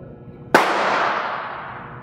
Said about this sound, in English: We're moving to the sound of the gunfire.